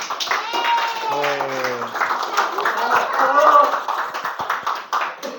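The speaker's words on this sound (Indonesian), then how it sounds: "Berikan aplaus dong buat kelompok." A school class gives a student group a round of applause after their history infographic presentation, a burst of scattered hand claps mixed with overlapping voices.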